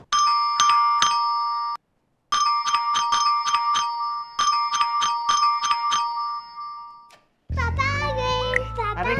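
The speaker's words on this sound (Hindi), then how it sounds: "जैसे ही घंटी बजी मैंने गेट खोल दिया" A home doorbell chimes in repeated bright electronic ding tones in rapid rhythmic bursts, clear and loud, with a short pause in the middle, then a voice speaks at the end.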